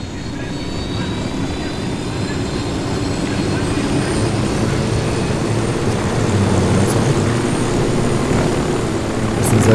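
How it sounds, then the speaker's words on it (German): Helicopter flying in the video game Ghost Recon Wildlands, a loud, steady engine and rotor drone that fills the whole stretch with little change in level. "Dann holen wir uns den Heli und fahren rüber."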